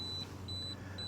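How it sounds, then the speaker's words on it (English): A cooking thermometer or smoker alarm going off while smoked baked potatoes finish: a thin, high electronic beep repeating in short evenly spaced pulses over a low steady hum, moderately loud and alone. "We have the alarm going off."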